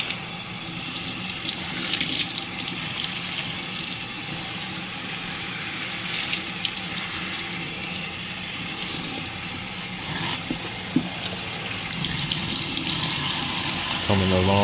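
Tap water gushing steadily over a K&N air filter to rinse out the suds, a loud continuous stream with slight splashing changes and no talk.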